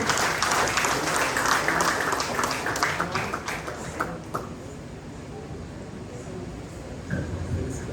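Steady applause from a crowd at a certificate ceremony fills the room, a dense patter of clapping that gradually thins slightly, with some voices mixed in.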